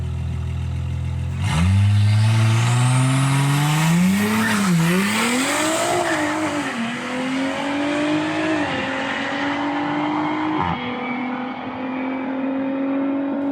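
An Audi SQ5 on drag radials launches hard on a quarter-mile drag strip. Its engine rumbles and climbs loud and close, with brief tire squeal at the start, then a steady rising drone as it pulls away.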